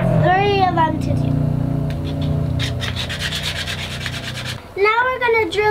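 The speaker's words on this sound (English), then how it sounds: "Sand all that crud off of there." A wooden disc cut from a log being sanded smooth, a steady rough rubbing and grinding that runs for several seconds, with a person talking over the start and end.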